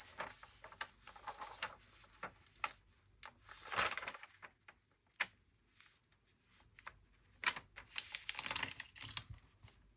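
Fragile vintage paper crinkles and crunches in irregular bursts of dry crackling, close and quiet, with pauses between handling sounds and no talking.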